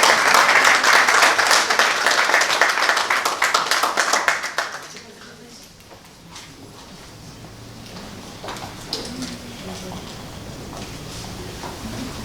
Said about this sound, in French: Ils sont tout mignons, on peut les acclamer.